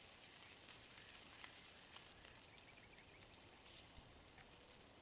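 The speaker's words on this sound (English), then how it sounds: "yes, the sizzle." Steady, crackling sizzle of sirloin steak searing on a hot braai grill, with fine popping spatter throughout and no talking.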